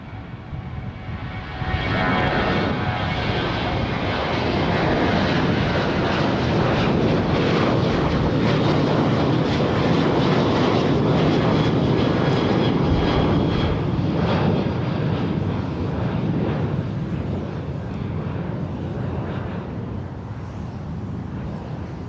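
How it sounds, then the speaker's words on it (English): A Southwest Airlines Boeing 737-800 bound for Las Vegas departs San Jose International Airport, its jet roar rising within the first two seconds and holding loud and steady, broad and rumbling with wind buffeting the microphone. "next departure, Southwest 2412, headed to Las Vegas, 737-800."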